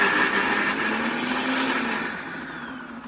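Blender briefly whirring through a chicken soup mixture, a steady high motor whine that holds for a few seconds and then eases slightly as it winds down.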